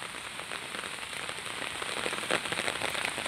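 Steady rain falling and pattering on a surface, a dense continuous hiss with scattered drop crackles that stays even throughout, with no voices.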